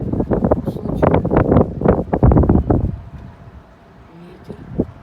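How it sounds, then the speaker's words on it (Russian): Wind gusts buffet a microphone on a 14th-floor balcony overlooking the sea in Novorossiysk, loud rumbling bursts in the first three seconds that then ease to a softer, steadier breeze. "Ветер."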